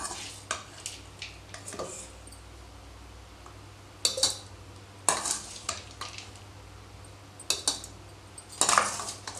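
Cooled, sautéed thuvaiyal chutney ingredients spooned into a steel grinder jar: a series of sharp metallic scrapes and clinks, irregular and close, with quieter rustling between louder knocks.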